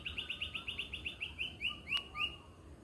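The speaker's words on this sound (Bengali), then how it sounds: "কি মধুর পাখিদের ডাক" A bird in the morning near a silk cotton tree chirps in a fast run of about a dozen bright notes, then a few slower calls, fairly faint and with nobody talking.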